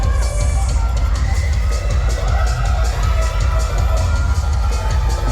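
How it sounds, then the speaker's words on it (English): At the Miss Teen International 2022 grand coronation, an indoor audience cheers loudly and continuously, with shouts, whoops and crowd roar blending into a dense, sustained wall of noise. "keep on cheering for the ladies"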